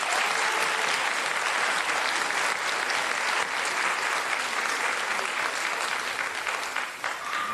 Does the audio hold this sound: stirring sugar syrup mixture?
no